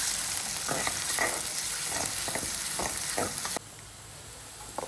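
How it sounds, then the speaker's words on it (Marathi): Onion sautéing in oil with salt hisses and crackles in a pan, with rhythmic stirring scrapes over a constant sizzle that drops sharply quieter near the end. "आता तेलात कांदा बघा छान परतलाय"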